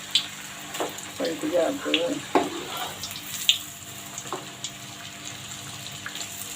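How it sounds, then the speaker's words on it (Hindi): Chicken spring rolls splatter and sizzle as they fry in oil, giving scattered crackling pops that come and go over a faint background, with a brief voice speaking partway through. "नमी नमी सी थी तो इसलिए छींटे उठे हैं।"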